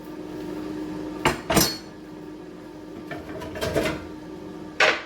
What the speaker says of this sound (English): Now, switching out the cutting board and the knife.